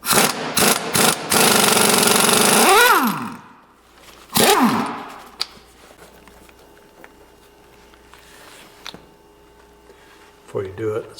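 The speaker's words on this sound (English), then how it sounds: "you're going to need a 15/16 impact socket in order to get that bolt off" An impact wrench with a 15/16 impact socket hammers at an idler arm bolt, already off the vehicle, in loud rattling bursts with short spin-downs, then a quieter stretch with faint background noise and a brief final rattle.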